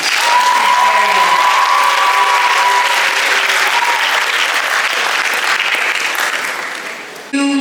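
A large audience at a school Founders' Day celebration gives loud, sustained applause that gradually fades near the end, with faint tones beneath early on and a brief voice at the close.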